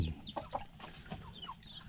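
Chickens cluck repeatedly in a coop built over a fish pond, short bright calls scattered across the moment at close range over a steady background hum.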